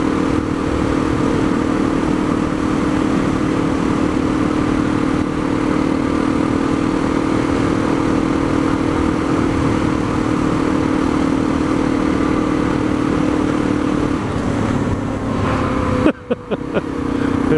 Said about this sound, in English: out riding that motorcycle in this weather